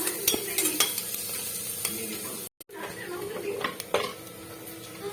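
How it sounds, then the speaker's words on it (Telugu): Ginger garlic paste fries in a pan for mutton pulao: close, steady sizzling with ratcheting scrapes and knocks from a spoon stirring against the pan, briefly cut off midway, then resuming. "కొద్దిగా అల్లం వెల్లుల్లి పేస్ట్ అండి, వేసి బాగా పచ్చి వాసన పోయేదాకా ఫ్రై చేసుకోవాలండి."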